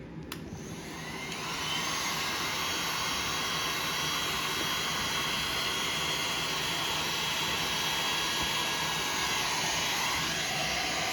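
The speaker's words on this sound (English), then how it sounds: "And that heat gun is hot." A heat gun heats vinyl wrap during a Club Car Carryall face lift, a steady, loud hissing roar of blown air that builds up after a brief start and then holds evenly.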